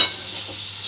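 Tomato sauce being stirred and sautéed in a frying pan for breakfast pasta, a soft steady sizzle with light scraping, close and alone with no talk.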